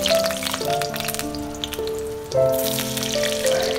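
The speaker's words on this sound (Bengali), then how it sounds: "এখন গরম কড়াইয়ের মধ্যে দিচ্ছি তেল, তার মধ্যে দিয়ে দিচ্ছি আলুর পিসগুলো" Potato pieces frying in hot oil in a hot kadai, a steady crackling sizzle throughout, with background music and no speech.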